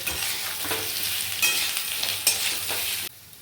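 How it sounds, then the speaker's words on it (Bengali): Potato pieces and soybean chunks frying in a pan sizzle close up, with stirring scrapes and small clatters over a steady hiss before the sound drops away at the end. "আলুগুলো দেখুন ভাজাটা হয়ে এসছে, এর মধ্যে আবার সয়াবিনটা দিয়ে দেবো। এবারে এটাও কিছুক্ষণ ভাজবো।"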